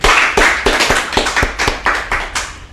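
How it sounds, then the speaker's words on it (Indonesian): An audience at a comedy show claps for performers being introduced, a loud, close burst of applause with a quick rhythm that fades slightly toward the end. "Tepuk tangan untuk Jon Ambon."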